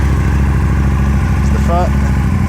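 A 2009 Aprilia Tuono 1000 R motorcycle with Leo Vince aftermarket pipes idles nearby with a steady, deep, continuous drone and a brief faint voice in the background.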